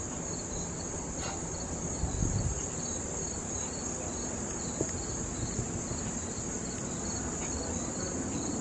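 Crickets chirp steadily and densely throughout, a continuous high trilling outdoors with no talking.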